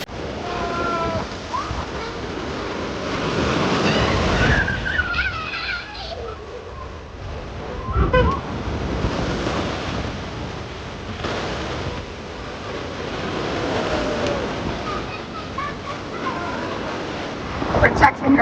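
Surf breaks on Seven Mile Beach, Grand Cayman, as a steady washing roar with wind buffeting the microphone, while people talk nearby over the waves.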